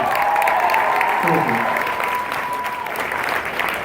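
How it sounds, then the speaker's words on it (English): At a Boston Super Saturday event, a crowd gives a loud, sustained round of applause that fills the whole moment, with a voice speaking briefly over it. "Give them a round of applause."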